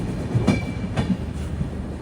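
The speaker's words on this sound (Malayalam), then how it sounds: "ട്രെയിൻ ഇപ്പോൾ നോർത്ത് ത്രിപുരയിലെ ധർമ്മനഗർ റെയിൽവേ സ്റ്റേഷനിലേക്ക് എത്തുകയാണ്." A Humsafar Express rolls into Dharmanagar railway station in North Tripura, with a steady rumble of wheels on rails and two soft rhythmic clacks standing out over the low hum of the coaches.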